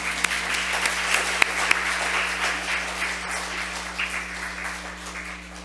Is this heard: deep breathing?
no